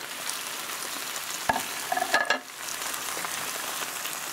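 Vegetables frying in a pan on the stove: a steady close sizzle runs throughout, with a few sharp utensil clinks and a brief stir near the middle.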